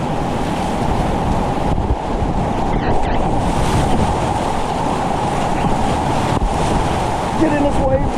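River whitewater rushes and churns around a kayak, a loud, continuous watery roar that stays close and steady throughout.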